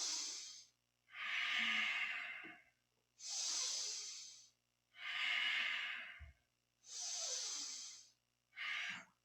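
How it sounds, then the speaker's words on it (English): Deep yoga breathing during a Kundalini back exercise, six long, loud airy breaths alternating inhale and exhale in an even rhythm, close to the microphone with short silences between. "Inhale up, exhale down."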